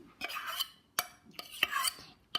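A metal spoon scrapes and knocks against a bowl while scooping out glue for homemade slime, giving several short scraping strokes with sharp taps in between, close and moderately quiet.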